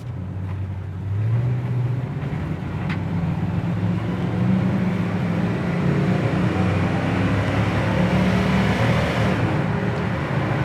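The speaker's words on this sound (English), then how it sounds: "Transmission shifts nice into second, nice into third." A 1971 Oldsmobile Cutlass on a test drive, its engine droning steadily from inside the car, with the pitch rising and then settling as the transmission shifts up through the gears.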